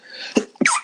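A person sneezes close by in a conversational recording: a quick sharp inhale-and-burst, then a second forceful sneeze with a breathy, hissing release.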